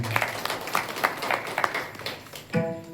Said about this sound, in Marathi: सगळे टाळ्या वाजवत त्यांच्यासाठी एकदा.